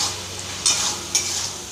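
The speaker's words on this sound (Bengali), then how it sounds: "এখানে আমার মশলা কষানো হচ্ছে।" Spices frying and being stirred in a pan while cooking a fig (dumur) curry, a steady close sizzle with two brief louder scraping stirs, no talking.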